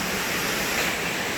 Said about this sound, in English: there's the little skinny waterfall